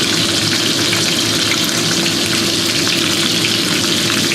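Vegetables dropped into hot corn or canola oil in a pot for slow-cooked Chinese beef short ribs give a loud, dense, continuous sizzle, close and unbroken, with no talking.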